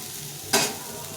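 Carrot and cabbage frying in a pan, heard as one short burst of sizzling with a stir in the middle of the moment, rising sharply and then fading back into quiet kitchen background.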